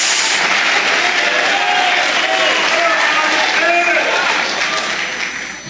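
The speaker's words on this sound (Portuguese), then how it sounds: "aplauso ao Senhor, barulho de glória a Deus" A church congregation bursts into sustained applause and cheering in praise, a loud continuous roar of clapping mixed with shouting voices that holds steady before easing slightly at the end.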